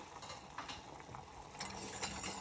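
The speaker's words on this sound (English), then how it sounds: "we could take a little bit of whole butter and give that a whisk" Whole butter is whisked into sauce bigarade in a pan, a faint, rapid scraping and ticking of the whisk against metal that keeps going steadily throughout with no speech.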